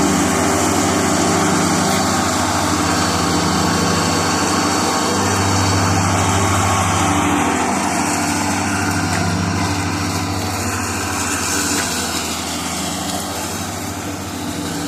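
A mower engine drones loudly and continuously while mowing a farm yard, close and steady for the whole stretch with slight swells in pitch.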